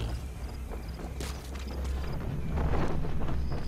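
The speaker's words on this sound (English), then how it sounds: "There's D-Horse." Hooves of D-Horse clip-clop in a steady galloping rhythm in Metal Gear Solid V: The Phantom Pain, growing louder as the horse approaches amid windy outdoor game ambience, with no talking.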